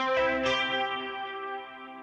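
A synthesizer preset called Electro Darkness sounds a sustained, harmonically rich tone with a second note entering, drenched in echo and reverb so it rings on and slowly fades, with no talk.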